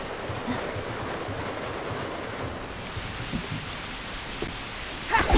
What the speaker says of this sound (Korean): 빗소리 진짜 같다 게임